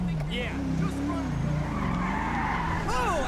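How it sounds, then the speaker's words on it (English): A car in GTA 5 spins out with a loud, wavering tire squeal over its engine noise, the screech bending up and down for a few seconds, with a second squeal near the end. "Jeez, this car just spins out."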